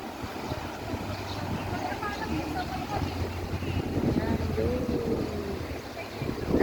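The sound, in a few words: wind blowing at the seaside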